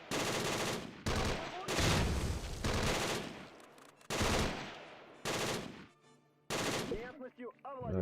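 Infantry in the Close Combat 3 war game open up with submachine guns, long loud automatic bursts with short gaps between them, and then a few rapid single shots at the end.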